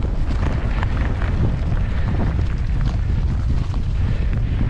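Heavy wind buffeting the microphone outdoors at a railway station, a constant loud rumbling roar with no pauses.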